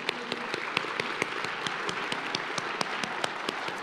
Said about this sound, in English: let's definitely give a big round of applause and thank you.